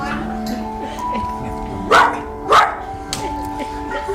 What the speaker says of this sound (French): Oh, that's a good dog.